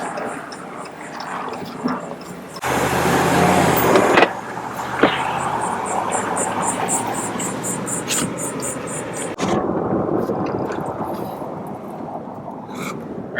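A 2019 RAM 1500 pickup, rebuilt after a wreck, rolls along on a test drive with steady road and engine rumble, a louder burst partway through, and a faint voice now and then.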